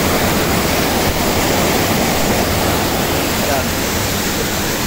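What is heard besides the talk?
water rushing strongly through a canal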